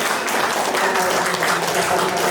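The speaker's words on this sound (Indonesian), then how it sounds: "Tepuk tangan sudah ya, biasa." A room full of people applauds loudly and continuously at a government ceremony in Kaimana for an official's birthday. The clapping is thick and even, with murmuring voices mixed in.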